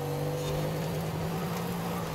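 Mercedes-AMG car engine in Forza Horizon 5 holding a steady, throaty drone under throttle, sustained and even throughout with no pause.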